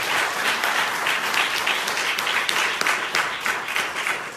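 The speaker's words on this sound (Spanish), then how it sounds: "Dale un aplauso al Señor." Loud, continuous applause from a church congregation, steady clapping filling the whole stretch with no voices over it.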